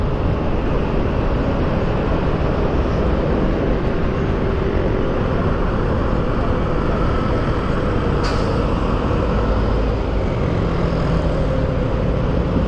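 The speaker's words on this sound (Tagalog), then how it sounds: "Traffic na mga katolits." Road traffic on Commonwealth heard from a moving motorcycle, a dense, constant broadband rumble of engines and wind roar with no clear breaks, a couple of faint sharp hisses standing out briefly.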